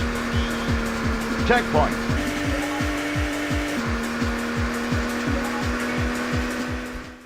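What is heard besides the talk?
car racing in N64 video game Automobili Lamborghini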